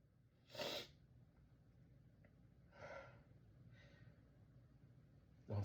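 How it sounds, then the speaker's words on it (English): Breathy gasps and a sharp sneeze-like burst break a quiet room, with a softer intake and exhale in between and another sudden burst at the end, no talking. "Don't sneeze."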